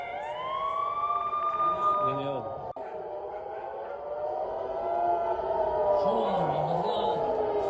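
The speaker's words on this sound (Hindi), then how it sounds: "लेबनान सीमा पर इजराइल में बज रहे हैं सायरन" Air raid sirens wail across northern Israel near the Lebanon border in the Galilee, rising and falling tones sounding loudly and continuously, with a second siren swelling toward the end.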